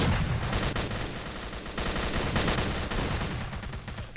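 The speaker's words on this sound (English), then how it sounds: "let me know when you've stopped shooting" Sustained automatic gunfire from S.T.A.L.K.E.R.: Call of Pripyat rattles loud and close in dense, overlapping bursts for the whole stretch.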